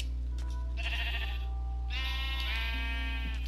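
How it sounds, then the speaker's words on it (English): A brown sheep bleats in Minecraft, two wavering nasal cries, the second longer and stronger, sounding close over a constant low background drone with no talking. "It's a brown sheep."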